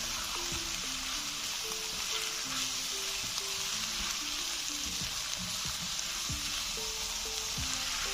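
Tinda sabzi seasoned with chaat masala and garam masala is stirred in a pan, giving a steady close sizzle with a regular series of spoon scrapes and taps throughout.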